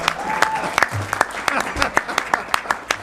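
Scattered audience applause at a college board of trustees meeting, with loose individual claps spread unevenly across the room and a voice speaking over it.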